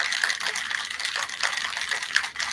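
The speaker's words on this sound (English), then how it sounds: "I'm gonna shake it up." Cold drink being shaken in its container, a continuous sloshing, splashing rush of liquid, close and fairly loud with no talk over it.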